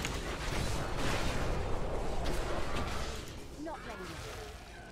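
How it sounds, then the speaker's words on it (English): Dense rumbling blasts and crackling bursts from spells in the Diablo 3 Reaper of Souls action game, played with a hardcore Wizard, run together steadily for most of the stretch, then thin out before a sharp hit at the end. "So many explosions."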